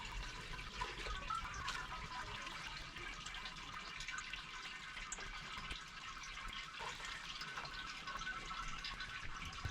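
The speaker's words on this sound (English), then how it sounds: "As long as this is draining down through there, I know I don't have a stuck mash" Sparge water draining steadily through an all-grain mango IPA mash, a soft continuous trickling and rushing of liquid, faint and close, with no talking.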